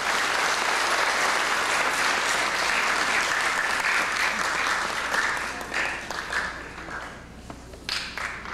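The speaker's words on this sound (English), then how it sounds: "Please give him a round of applause." Congregation at the Ethiopian Orthodox Tewahedo St. Mary Cathedral in Toronto applauding Deacon Eyob after his English sermon, sustained dense clapping that thins out into scattered claps near the end.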